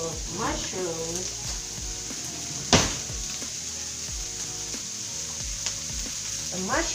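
Mushrooms and baby squash sizzle in butter in a pan, a constant bright frying hiss with a sharp clatter near the middle; a voice talks over it.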